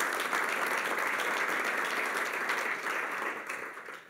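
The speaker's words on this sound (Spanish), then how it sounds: "Le da ese aplauso al Señor." A church congregation applauds during a sermon, a dense, steady wash of clapping that holds evenly before fading away toward the end.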